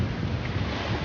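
Rough, churning sea surf at the shore sends a dense, continuous roar of breaking waves and wind, loud and close with no pauses.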